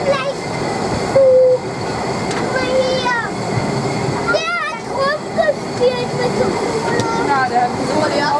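Harz narrow-gauge steam train running on a concert trip, a steady rolling rumble with brief whistle-like tones and children's voices and chatter layered over it throughout.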